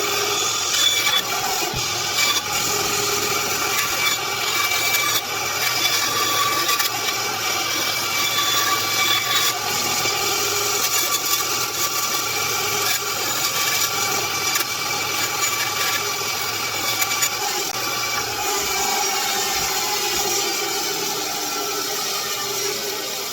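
Power saw cutting the lip piece for a homemade crankbait fishing lure, a continuous high buzzing whine running steadily and close throughout with no talking.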